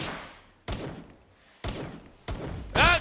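Pistol shots in Palworld: three sharp loud bangs spaced about a second apart, each with a brief decaying tail, followed by a short tonal burst at the end.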